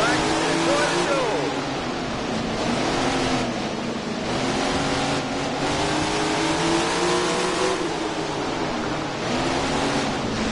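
410 sprint cars roar away at the start of a race, a dense, loud engine drone whose pitch rises and falls steadily as the pack accelerates past.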